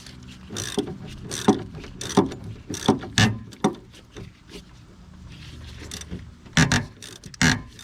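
A ratchet with a 15 mm deep socket works a nut loose on a Jeep, giving irregular bursts of clicking and metallic clatter, close by, with pauses of quieter background between them and no talking.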